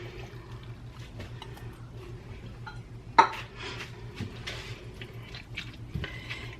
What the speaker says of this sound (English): And I'm going to mix that up.